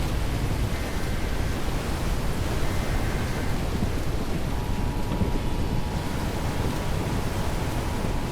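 Roaring wind and rain inside a tornado, a steady loud broadband rush that fills the whole span without letup, with faint tonal whines drifting through it.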